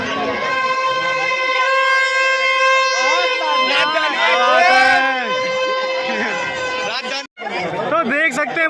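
Dense crowd chatter on the busy road to the Armapur Dussehra fair in Kanpur, many overlapping voices close by and a continuous murmur, with strong harmonic tones, likely horns or music, running through it.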